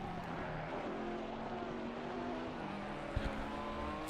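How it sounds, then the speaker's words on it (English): Race cars lapping a track in a GT4 racing video game, a steady distant engine drone with shifting whining tones and a brief thump near the end, no talking. "And see the cars as they go around the track."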